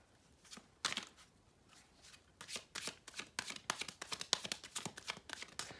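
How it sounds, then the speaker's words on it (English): Tarot cards being shuffled close up: a few sparse riffles at first, then a dense run of quick papery bursts that grows louder and more regular, with no talking. "Okay, I'm gonna get some cards."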